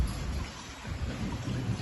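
Steady rain with gusting wind sweeping over wheat fields during a heavy downpour, a constant broad wash with low rumbling rising and falling, no voices.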